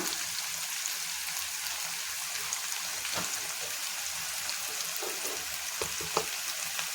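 Masala with garam masala and coriander sizzles and crackles in a hot pan, a dense, steady frying hiss with scattered sharp pops, close and continuous.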